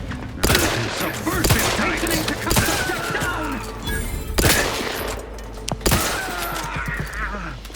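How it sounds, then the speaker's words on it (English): Gunfire in The Outer Worlds 2 video game: loud, sharp shots ring out in irregular bursts and single cracks over about eight seconds, with clattering debris between volleys. "The shooting seems pretty good in this so far."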